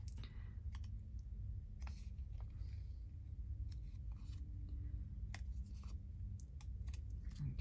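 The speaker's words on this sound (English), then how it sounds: "let me just snip a bit more off there, my corners off" Scissors snip painted and stamped card labels, trimming off corners with quiet, crisp cuts scattered irregularly across the stretch. Small clicks of handling sit between the snips against a soft background hiss, with no one talking.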